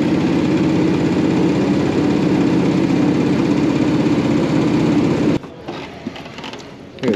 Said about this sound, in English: Loud motor.